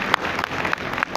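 Audience applause during a Punjabi comedy stage drama in Pakistan, a brief, steady patter of clapping from a theater crowd, fairly close and moderately loud, with a few sharper individual claps standing out.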